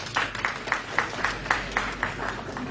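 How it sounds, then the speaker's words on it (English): At an institute talk series on strategic management, an audience welcomes a guest speaker with clapping that comes through as a sharp, regular beat of distinct claps, about four per second, over a faint room background. "Let's have a big round of applause."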